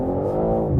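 A 2024 BMW M3 Touring engine roars steadily and loudly while drifting, a dense, sustained harmonic drone with no voices over it.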